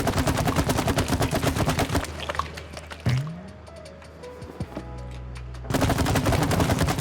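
Gunfire in the co-op video game It Takes Two: dense rapid bursts of shots at the start and end, with a quieter stretch of squishy, ticking game effects in between and no talk.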